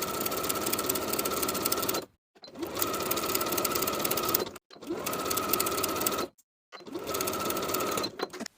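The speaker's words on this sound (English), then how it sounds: "Sew all around the neckline opening with a 3/8 inch seam allowance." A sewing machine stitching around a knit t-shirt neckline, steady fast whirring runs of a couple of seconds each, broken by short pauses, loud and close with no voices.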